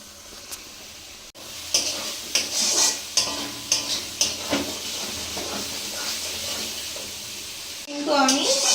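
Spice paste for duck curry fries in a pan while it is stirred, giving a loud, close sizzle broken by repeated scraping strokes, with voices briefly at the end.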